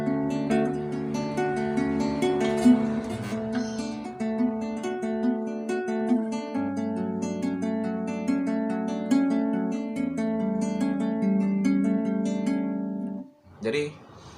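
Guitar picked in the Wirang Drumming style, sustained ringing chords with a steady rhythmic pulse of plucked notes and percussive string hits, close and loud, ending in a brief pause and a final strum.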